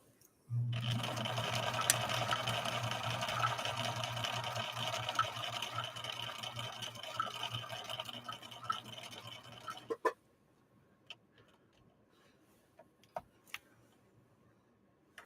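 A Viking 6020 sewing machine with an alternate B cam runs steadily, stitching a catacomb-style pattern in a continuous whirring, ticking mechanical drone for about ten seconds before stopping, followed by faint clicks.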